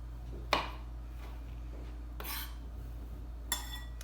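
Oyster mushrooms are cut into big chunky pieces with a knife on a board, giving three separate sharp chops spaced a second or more apart over a low steady hum.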